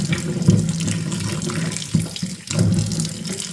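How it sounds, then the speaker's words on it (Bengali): Jujube berries are washed under a running tap, a steady close stream of water splashing in a sink with a few brief surges, no voices. "কুলগুলিকে এবার ধুয়ে নেব ভালো করে জল দিয়ে"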